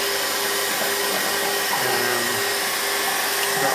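A vacuum pump runs on a refrigeration system being evacuated after a nitrogen purge, making a steady, loud, continuous whirring hum with no pauses and no talking.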